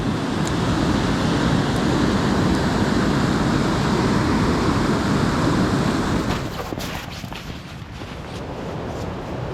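A waterfall pours into a Michigan Upper Peninsula stream, giving a steady, dense roar of rushing water that eases slightly toward the end, with no voices.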